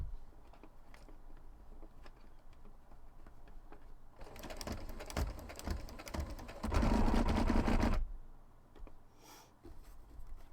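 A sewing machine running a straight stitch across a corset panel, a dense mechanical chatter that starts suddenly, runs for about four seconds and grows louder toward the end before stopping, with quiet room sound around it.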